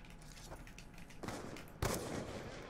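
Gunfire in Black Ops 2 during a trickshotting match, with a few faint distant shots early on and a sharper, louder burst near the end amid muffled game noise.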